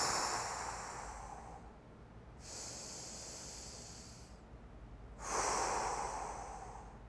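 Deep diaphragmatic breaths during a warm-up exercise: three long, loud airy exhales and inhales through the mouth, close to the microphone, each lasting a couple of seconds with brief pauses between.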